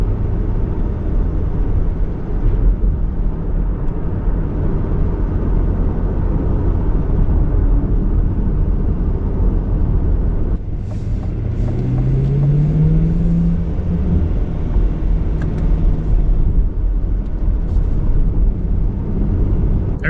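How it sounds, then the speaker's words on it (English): A C8 Corvette engine drones steadily at cruising speed, with road rumble throughout and a brief rising engine tone partway through, with no talking. "It's just a constant noise of the engine."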